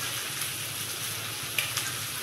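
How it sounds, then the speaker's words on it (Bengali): A spice paste with turmeric, chili powder and salt sautés in a pan for a prawn malai curry, giving a soft, steady, faint sizzle with a couple of small clicks. "দিয়ে ভালো করে মশলাটিকে আবারও কষিয়ে নেব"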